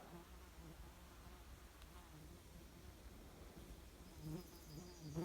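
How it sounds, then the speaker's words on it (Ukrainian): Faint, continuous buzzing of small hairy wild bees flying in and out of a crack in an oak, with a soft drone that swells briefly near the end against quiet outdoor background. "Як старі діди казали, слепята, дрібна волохата бджола."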